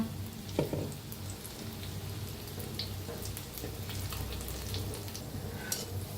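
Steady, soft hiss of oil deep frying gram-flour fritters, a continuous bubbling sizzle with an occasional faint clink, heard close with no talking.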